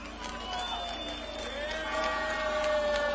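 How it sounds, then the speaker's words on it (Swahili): A large political rally crowd at Kamukunji claps and cheers for itself, a continuous roar of applause and whoops that swells slightly toward the end, with faint tonal calls or whistles above it. "Tunasema ngo, tangu asubuhi nyinyi mmekuwa wavumilivu zaidi, mjipigieni makofi."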